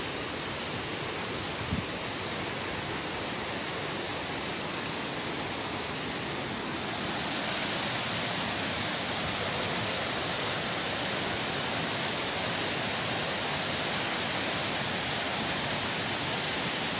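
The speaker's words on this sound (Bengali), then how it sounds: "সামনে দেখুন খুব সুন্দর একটা ঝর্ণা।" A waterfall on a snowy Har Ki Dun mountain trek pours in a steady, dense broadband rush, close and continuous throughout with no voices over it.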